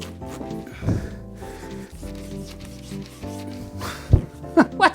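A dull knife saws and rubs through a pineapple with scraping strokes, then a few sharper thuds near the end, over faint background music.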